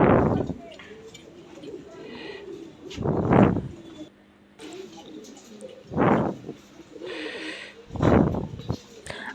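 A pair of blue-barred Adana dewlap fancy pigeons coo in deep, rounded bursts at roughly two-second intervals, near and clear, with faint background chatter.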